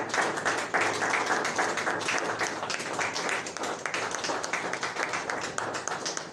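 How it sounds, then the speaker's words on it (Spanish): A church congregation at a Thursday evening general meeting breaks into sustained applause, a dense, even wash of many hands clapping close by that carries on throughout without letting up. "¿Cuántos le pueden dar un fuerte aplauso en su gracia?"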